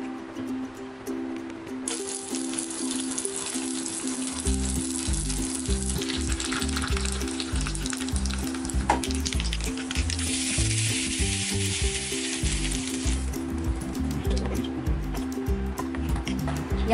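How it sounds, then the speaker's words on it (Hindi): Steady crackling sizzle of mustard seeds and curry leaves frying in hot oil for a chutney tempering, with a low rhythmic stirring thump running underneath. "इसमें हम लगाएंगे कड़ी पत्ता और राई का तड़का"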